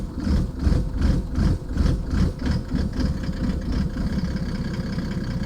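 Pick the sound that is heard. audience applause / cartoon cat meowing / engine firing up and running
engine firing up and running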